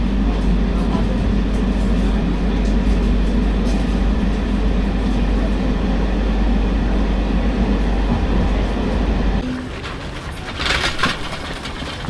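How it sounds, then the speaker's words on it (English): A passenger train on a Moroccan rail journey rumbles steadily with a loud, low continuous drone for most of the clip, then the sound drops and thins to a lighter rattle and hiss near the end. "Guys, this is our train. The journey has started."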